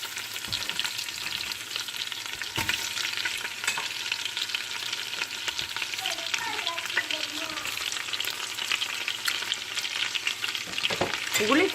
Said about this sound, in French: Après dans le jus on fait revenir les oignons.